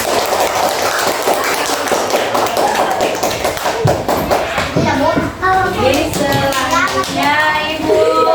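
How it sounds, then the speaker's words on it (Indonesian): Schoolchildren clap in a classroom for a student group that made recycled art from leaves, cardboard and glue, a burst of close, rapid hand claps followed by children's chatter and voices. "Jadi ya tepuk tangan dulu untuk kelompok"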